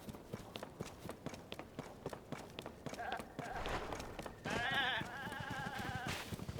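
Goats bleat in the video game Zelda: Tears of the Kingdom, several wavering cries stacking up in the second half over a steady patter of footsteps and game sounds.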